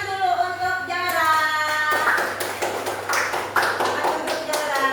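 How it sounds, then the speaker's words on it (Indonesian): Hands clap together in a school classroom during a lesson on Banjar culture; a voice sounds first, then a scattered round of clapping breaks out and carries on steadily to the end. "silakan tepuk tangan dulu"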